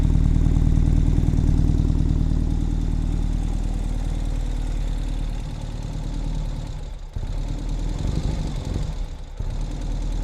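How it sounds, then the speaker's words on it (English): A 2020 Ural Gear Up sidecar motorcycle engine idles steadily with a deep, throaty exhaust rumble, close by, dipping briefly and picking back up near the end. "Nice throaty sound from the exhaust."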